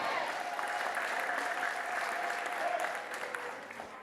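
A church congregation applauding together, a dense, sustained burst of clapping from many hands filling the room, holding steady before tapering slightly at the end.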